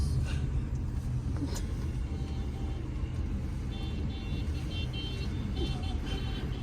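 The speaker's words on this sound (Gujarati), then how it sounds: "ટ્રાફિક જામ છે." A traffic jam on a city road at night during Navratri, with a continuous low rumble of idling and slowly moving cars close by and faint horn-like tones now and then.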